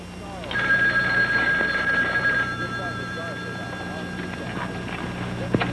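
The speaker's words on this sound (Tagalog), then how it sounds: "Aling Choleng, pakisagot nga yung phone" A telephone rings in a 1983 Filipino radio drama, a steady bell-like trill lasting about two seconds and then fading under the scene's background, while a voice talks over it.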